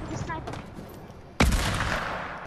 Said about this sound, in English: Shoot with the sniper.